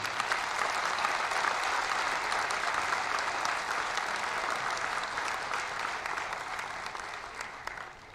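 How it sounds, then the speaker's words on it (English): Large audience applauds steadily for two political leaders at a felicitation and inauguration ceremony in India, a dense continuous wash of clapping that fades slightly near the end. "Can we please have a huge round of applause for them?"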